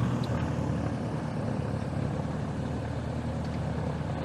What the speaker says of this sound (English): And starting engine.